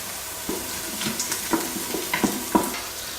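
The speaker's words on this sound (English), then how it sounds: "turns out sautéing onions takes longer than I thought it was going to take" Onions sautéing in an Instant Pot, a soft continuous sizzle broken by several light scraping stirs, close and fairly quiet.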